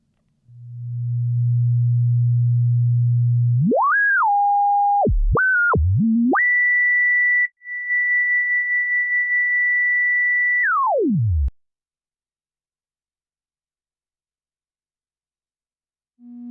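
Pure electronic sine tones from a browser emulator of the Music Thing Modular Workshop System: a low steady hum, then pitch sweeps and jumps, a long held high tone that glides back down, then silence.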